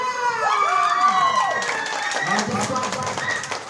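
Guests at a child's birthday party clap and shout together in a loud, close crowd burst, with several voices cheering over the steady clapping.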